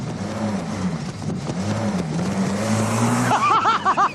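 A car accelerating hard off the line in a drag race, its engine revving up loudly and rising in pitch over several seconds, with an excited voice calling out at the end.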